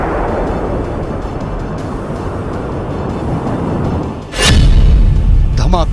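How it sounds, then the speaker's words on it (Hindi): A missile strike explosion in Iran, the first of three missiles landing one after another: a steady rumbling roar gives way to a sudden loud, deep blast that keeps booming to the end. "धमाका नंबर 1,"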